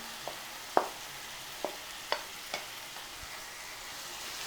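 Chicken and tomato fry in oil for a chicken pulusu while being stirred, with a quiet background sizzle broken by several distinct utensil clacks against the pan.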